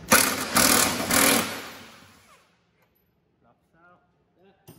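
An impact wrench with an 18 mm socket on a Gen 6 Camaro rear cradle bolt gives three loud, rattling bursts close up, then falls quiet apart from faint clinks.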